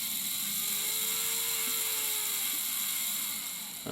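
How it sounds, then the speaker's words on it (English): A wireless rod wrapper motor turning the chuck at up to 240 RPM, a steady, faint mechanical hum with a high whine, continuous and close, with no talking. "This motor on this one is 240 RPM to the chuck"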